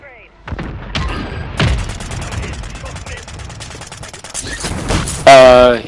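Gunfire in the Warzone video game, with a sniper rifle involved: bursts of shots and booming cracks spread through a busy, loud mix, ending in a heavy blast, while a voice talks partway through.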